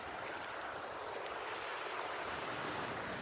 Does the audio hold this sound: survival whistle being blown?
no